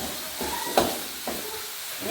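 Spices sautéing in a pan for chicken soto make a steady close sizzle and hiss with a few soft stirring scrapes and clinks throughout.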